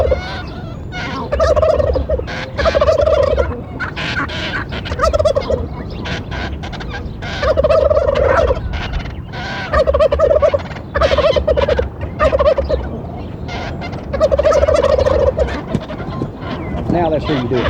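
Wild turkey hens yelp and cluck in repeated bursts of calling, loud and close, with rustling outdoor noise between the runs.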